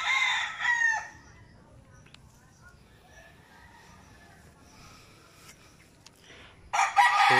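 A rooster crows loudly at the start and again at the end on a farm, with quieter chicken sounds and faint background noise in between.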